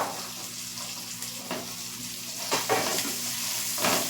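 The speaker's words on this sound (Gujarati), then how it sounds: "આઠથી દસ લસણની કળી છે તે એડ કરીશ લસણની કળી પણ આપણે આખી જ લીધી છે ફોલીને" Whole peeled garlic cloves, eight to ten of them, sizzle and fry in a pan for matar paneer, a steady close hiss with a few sharper spits and scrapes as they settle, no talking.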